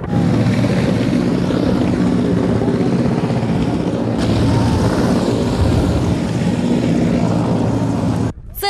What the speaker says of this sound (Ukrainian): У небі з'являється гелікоптер, сідає та зчиняє справжню піщану бурю.